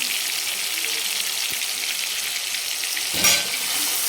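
Tomatoes fry and soften in a pan with a little salt, giving a steady, close sizzle throughout with a brief louder burst of crackling near the end.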